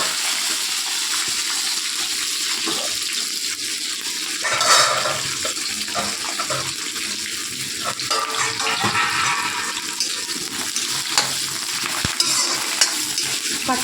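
Greens with dried fish sauté in a pan with a steady, loud sizzle throughout, broken by scraping stirs and occasional clatters close by.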